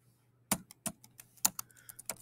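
Typing on a computer keyboard: a short burst of separate key clicks at an irregular pace, close and fairly quiet over a faint steady hum, with no talking.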